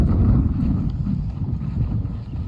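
Wind buffets the microphone with a continuous low rumbling roar that pulses slightly in strength.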